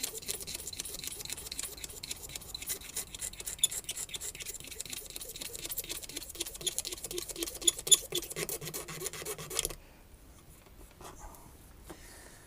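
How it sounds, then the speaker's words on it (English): A P Bass guitar body having its finish scraped off by hand: close, steady rasping strokes repeat rhythmically for about ten seconds, then stop, leaving only faint rustling. "all I'm doing to get this finish off, or start to get this finish off, is just scraping away"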